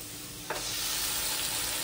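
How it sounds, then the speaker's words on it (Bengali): Spice mix hits potatoes already fried in oil, setting off a loud, dense sizzle that jumps up suddenly and then holds as a steady close hiss with faint stirring. "এখন আমি মশলাটা, আলুটার মধ্যেই মশলাটা দিব"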